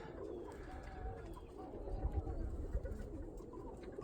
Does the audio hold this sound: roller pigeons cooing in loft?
yes